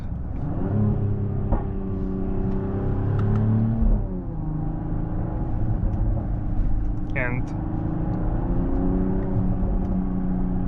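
Mercedes-AMG GLE 53 Hybrid engine revving with a steady drone, a brief rise in pitch and a few crackling exhaust pops near the middle, under continuous talk from a person in the car.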